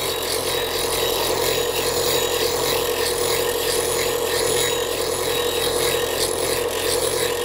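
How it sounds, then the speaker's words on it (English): A bench grinder grinding a blade in a woodworking shop, its steady loud rasping whir constant throughout, with no pauses or voices. "Now I'm just going to finish grinding this while I turn it off, otherwise it'll spin for the next 5 minutes."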